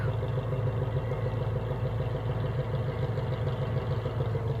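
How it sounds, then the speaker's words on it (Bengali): A motor boat engine on a village river runs as a steady, loud mid-pitched drone with a faint rattle, holding even throughout with no speech over it. "দেখেন এদিকে একটা সৌন্দর্য নৌকা যাচ্ছে"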